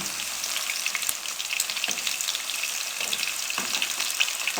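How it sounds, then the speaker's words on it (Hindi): Chicken frying in hot oil, a dense continuous crackling sizzle, loud and close, with a few soft bumps of stirring underneath and no voices. "माशाल्लाह बहुत अच्छे तरीके से फ्राई हो रहा है"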